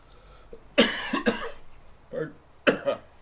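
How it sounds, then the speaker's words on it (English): A person with a tickling cough coughs several times in short, dry bursts, with pauses between the fits, close and fairly loud. "I still have that tickling cough"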